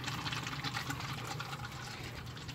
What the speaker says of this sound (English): Let's fill her up with a little bit of water here.